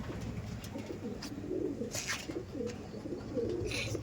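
Andhra breed pigeons at a loft coo softly in low, repeated phrases under steady background noise, with a few brief higher sounds now and then.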